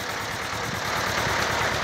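A tractor engine runs steadily while a machine is tested before haymaking, a loud continuous rumbling drone with a broad hiss on top, close by and with no talk.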